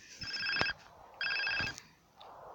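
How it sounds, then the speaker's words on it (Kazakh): A phone rings in the video game GTA San Andreas, two bursts of a bright electronic trill separated by a short gap, fairly faint, with soft game background and no talk. "Аламыз телефон."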